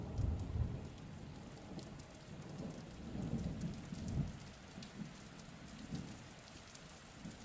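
Steady rain falls with low rumbles of thunder rolling in and out beneath it, a soft continuous wash with no voices, fairly quiet and even throughout.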